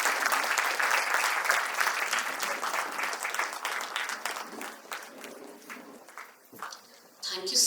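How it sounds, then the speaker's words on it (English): An audience claps loudly through the opening of a literary festival's inaugural session, a dense sustained applause that thins toward the end before a brief swell, with voices mixed in. "A big round of applause for our guests,"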